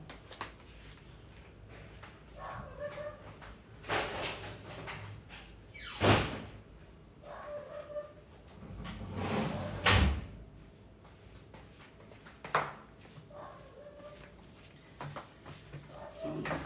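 An indoor door being closed while a dog bangs against it, with repeated knocks and thuds scattered irregularly, a few louder bumps, and faint voices in the background.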